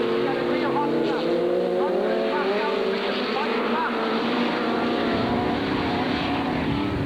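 A V8-powered Datsun race car leads a pack, its engine drone rising and falling with shifting pitch at moderate distance, under continuous commentary.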